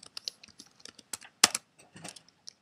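Quick, irregular clicks of a computer keyboard as a command is typed, crisp and close, with a brief cluster of louder keystrokes near the middle and no voices.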